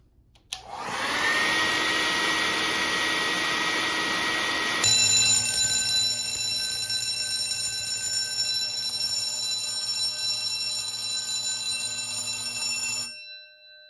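A Notifier MD-8 fire alarm panel sounds after a heat detector is activated: a loud, continuous electronic ringing starts abruptly, shifts tone partway through, then holds steady before cutting off.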